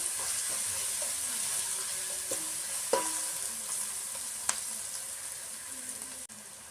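Ginger garlic paste frying in a pan for a fish tamarind curry gives a steady, close sizzle, with a few sharp clinks of a spoon stirring against the pan and no voices.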